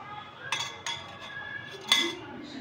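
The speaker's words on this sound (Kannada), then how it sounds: "ಜಾಲ್ರಿ ಇದರೊಳಗೆ ಹಾಕೋಣ." A perforated metal disc set down inside a metal puttu steamer pot while making Kerala-style puttu, giving a few sharp metallic clinks and clatters, with the loudest one near the end.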